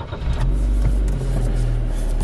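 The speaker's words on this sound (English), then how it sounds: "I can start my car." Car engine being started after a check-engine repair, settling into a steady low idle rumble close by, with a few light mechanical knocks and no voices.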